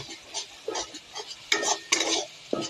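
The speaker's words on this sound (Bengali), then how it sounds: "এবার পেঁয়াজটা ভাজা হচ্ছে" Onion paste frying in a pan while a spoon stirs it, giving a few short close scraping strokes over a soft sizzle.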